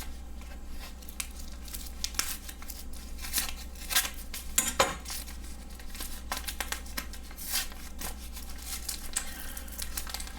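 Plastic wrapping on a packaged cured meat product being torn and cut open, with crinkling, ripping and snipping close by at a steady low level.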